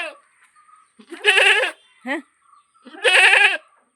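In the morning a goat gives two loud, drawn-out bleats separated by a shorter cry, each standing alone against an otherwise quiet background.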